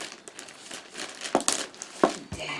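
Crinkly plastic packaging of an FFP2 face mask from Amazon being opened, with soft rustling and a few sharp crackling crinkles close up.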